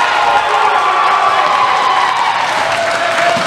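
At a men's college volleyball match between North Greenville and Limestone, the gym crowd gives a loud sustained cheer with clapping and whoops, a dense roar that holds steady throughout.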